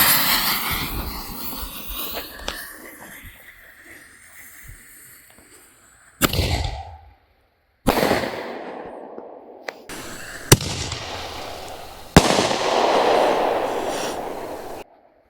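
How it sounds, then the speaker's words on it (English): A TNT mini canister shell firework fires with a thump and then bursts in several loud, sharp booms and crackling rumbles outdoors, separated by brief silent gaps, with no talk. "up first, we're going to do that TNT mini canister shell"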